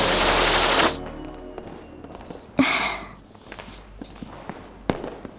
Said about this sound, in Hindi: हमारे साथ चल के पटाखे चलाओ ना